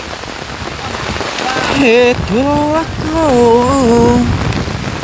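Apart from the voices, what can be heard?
rain falling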